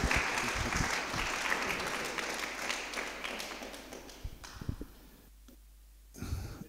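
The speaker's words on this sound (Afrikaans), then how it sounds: "Kom ons gee 'n slag vir my vrou 'n lekker hande klap." Warm applause and hand clapping from a church congregation, loud and dense at first, then thinning into scattered claps before a last brief swell.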